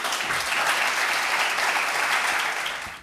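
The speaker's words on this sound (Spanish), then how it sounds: "por favor pido un aplauso para Albert Esplugas" A live audience claps steadily for a speaker in a dense, even wash of applause that fades out at the end.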